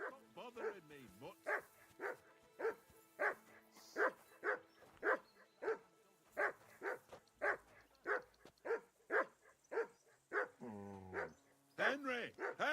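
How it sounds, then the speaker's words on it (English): Repeated dog barks ring out in a video game, a regular string of loud, close yips with brief voices heard at the start and near the end. "I assume you can hear that damn dog of yours barking."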